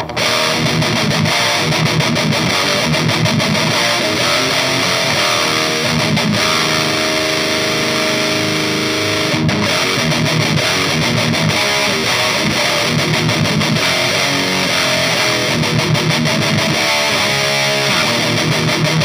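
Electric guitar played through an Electric Eye Audio Thrasher distortion pedal set for high-gain thrash metal tones, a dense, saturated roar of chugging riffs and sustained chords that runs loud and unbroken throughout.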